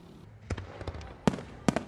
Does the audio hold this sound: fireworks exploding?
yes